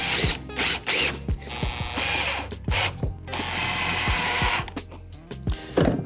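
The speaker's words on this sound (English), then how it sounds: "A drill and a Phillips bit to start these screws" Power drill with a Phillips bit driving screws into a Hobie Mirage Passport kayak rudder housing: short whirring bursts with clicking ratchet-like ticks and a longer steady run, close up and alone.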